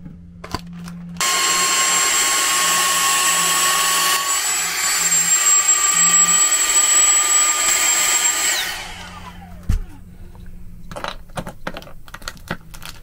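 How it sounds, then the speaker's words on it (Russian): Vacuum cleaner sucking the air out of a zip-lock storage bag holding a blanket, a loud steady whine that starts abruptly, runs for several seconds, then winds down, followed by faint handling rustles. "И берем пылесос."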